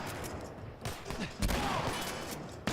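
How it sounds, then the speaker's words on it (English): Gunfire bursts out in a tense firefight in The Last of Us Remastered survival mode, several sharp, loud shots and rattling volleys set against a noisy background. "Who's shooting?"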